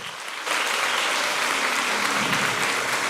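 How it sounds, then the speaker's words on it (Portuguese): A church congregation applauds during a live worship service, breaking into dense, sustained clapping after a brief near-silent moment and holding it steadily to the end. "Pode aplaudir o Senhor."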